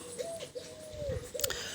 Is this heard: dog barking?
no